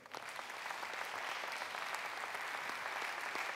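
A church congregation claps together in a dense, continuous round of applause, steady and fairly distant.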